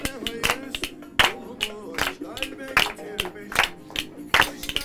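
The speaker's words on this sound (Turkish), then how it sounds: "Evet, alkışlayalım." Scattered hand claps of a small group in a club setting, uneven bursts of applause with sharp transients repeating through the few seconds, mixed with voices.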